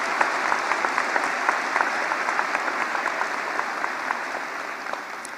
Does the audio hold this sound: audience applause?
yes